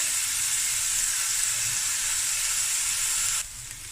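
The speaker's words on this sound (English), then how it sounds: "So we're gonna fry this until the onions is a nice golden brown color" Onions frying in a pan for a Cape Malay chicken akhni make a steady, close sizzling hiss that stays even for a few seconds, then drops suddenly quieter near the end.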